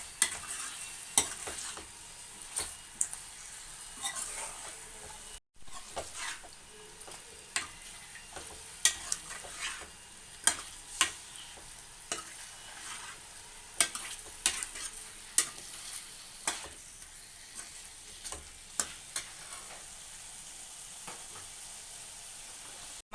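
Chicken being stirred in a frying pan with softened aromatics for a Tamil-style chicken kulambu, giving a steady sizzle with repeated scraping and clinking strokes of the spoon throughout, with no talk.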